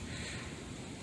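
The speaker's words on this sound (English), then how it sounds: "It is a little bit windy tonight." Wind buffets an LG K51 phone microphone outdoors at night, a constant loud rushing roar filling the whole short moment with no voices.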